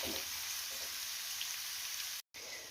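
Carrots and onions stew in a pan with a steady, moderate hiss of gentle frying that breaks off briefly near the end.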